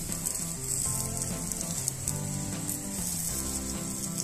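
Paneer paratha sizzles steadily in ghee on a hot pan, a loud continuous frying crackle with no break, under faint tonal background sound.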